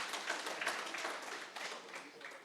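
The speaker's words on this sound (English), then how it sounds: "Can we please give them a round of applause once more again?" An audience at a TVET conference applauds the panel members, a dense, even wash of many hands clapping that holds steady for a couple of seconds at moderate distance.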